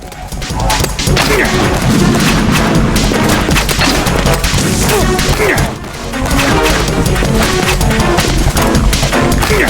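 Explosions from thrown grenades in Metal Gear Solid 2, loud repeated crashes and booms packed densely across the whole stretch, with a brief dip midway, mixed with game effects and music.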